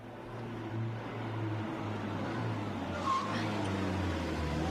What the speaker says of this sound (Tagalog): Ma, naay jeep nagpaingon na dinhi mo na itong sakyan.